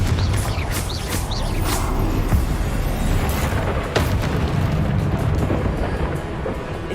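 Confringo, an explosive fire spell, blasting repeatedly in a Hogwarts Legacy duel; dense booming bursts over a steady roar of combat noise, loud and continuous throughout.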